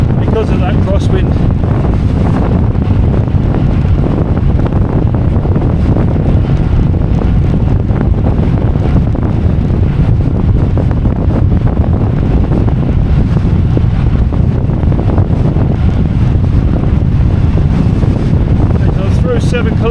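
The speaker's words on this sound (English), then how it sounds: "Because of that crosswind." Strong crosswind buffets the microphone while cycling the Isle of Man Gran Fondo Chrono course, a loud continuous roaring rumble that stays steady throughout.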